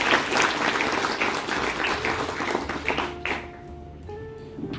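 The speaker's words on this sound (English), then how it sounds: "A round of applause for all the panelists and moderator." An audience at a corporate panel discussion claps in sustained applause that thins out toward the end, where a soft tonal hum lingers beneath the fading claps.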